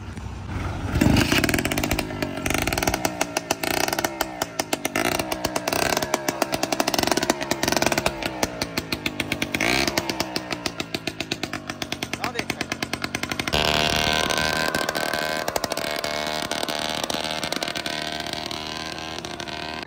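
A petrol-fuelled tractor engine runs loudly throughout, with a rough, sputtering rhythm and sharp popping bursts, while people talk nearby over the noise.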